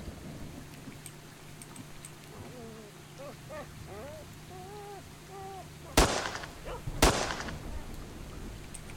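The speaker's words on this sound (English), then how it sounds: "Shouldn't the rain be highly radioactive?" Rain hisses steadily in S.T.A.L.K.E.R. Shadow of Chernobyl, a faint continuous wash under scattered game voices, broken by two sharp, loud cracks near the end.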